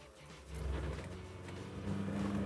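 A car's electric fan and fuel pump whir on as the key turns, a low steady hum that swells after half a second and gains a buzzing tone near the end, with no talking.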